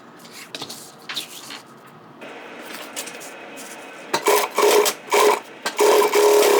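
An industrial sewing machine back tacks a strap, with short stitching bursts that start and stop, louder toward the end, plus quieter rubbing and handling of the material.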